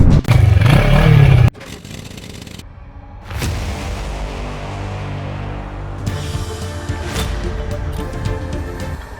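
A Yamaha Tmax 560 scooter on the move, starting with a loud burst of engine and wind noise that cuts out, then a steady mid-pitched engine hum with occasional clatter and rising revs.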